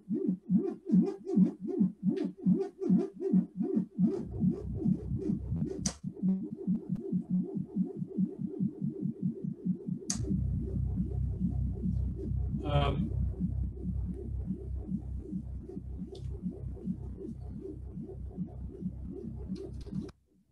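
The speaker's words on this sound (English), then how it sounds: "I just added one more oscillator into the FM2 of that original sound that we're listening to" Synthesizer tone with an extra oscillator patched into the FM2 input, a pulsing low buzzy drone in a fast wobbling rhythm that shifts to a steadier, denser growl partway through, with brief high blips, loud and alone.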